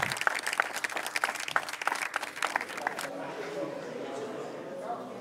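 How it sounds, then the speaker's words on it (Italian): A crowd claps densely at an outdoor street-naming ceremony for via Aurelio Peccei. The steady applause lasts about three seconds, then fades into a low murmur with voices. "un applauso a via Aurelio Peccei"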